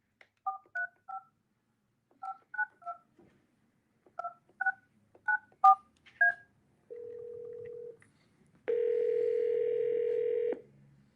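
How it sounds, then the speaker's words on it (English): A telephone keypad dials a number in quick bursts of paired touch-tones, grouped in short clusters, followed by a brief steady tone and then a longer ringback tone as the call connects; no voices. "I am calling you now"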